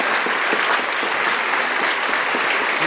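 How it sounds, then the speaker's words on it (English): Audience applause for the lighting crew at a school Christmas concert, a steady wash of many hands clapping throughout, fairly close and even in level. "Let's give him a round of applause."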